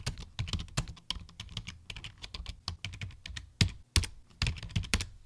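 Rapid, uneven clicking of computer keys as a Linux terminal command is typed, with close, crisp keystrokes in quick bursts and a few heavier taps, with no talking.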